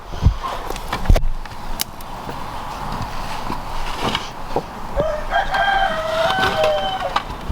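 A few scattered clucks from broody hens and sharp knocks over a steady outdoor hiss, then a drawn-out rooster-like crow toward the end.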